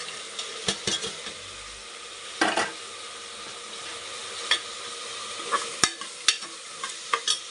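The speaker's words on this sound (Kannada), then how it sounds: "ಇದೆಲ್ಲ ಒಂದು ಸ್ವಲ್ಪ ಫ್ರೈ ಆಗಲಿ." Mixed vegetables for a pulao sizzling in a pan under a steady, soft frying hiss, with irregular scrapes and knocks from a spoon stirring against the pan.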